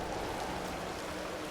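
Rain falling in the video game Empyrion Galactic Survival, a steady dense hiss of drops with no talk.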